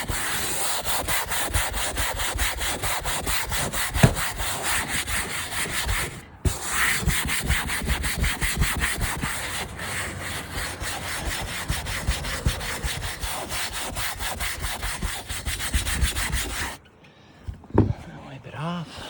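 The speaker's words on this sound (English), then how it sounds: "That's why we got some wax grease remover. And we're going to scrub it." RV roof surface being scrubbed with wax and grease remover, a steady rapid back-and-forth rasping rub close up that continues almost without pause, stopping briefly once, before a few quieter knocks at the end.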